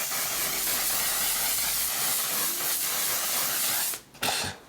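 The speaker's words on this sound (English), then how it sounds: "This is the One Size Until Dawn setting spray." One Size Until Dawn setting spray misted in a long continuous hiss that fills nearly the whole stretch, then stops briefly before a final short burst, close and steady, with no talking.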